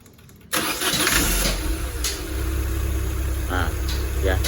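A luxury car engine cranks and starts after its weak battery was swapped for a used one, firing up abruptly half a second in and settling into a loud close idle, with a voice speaking over it.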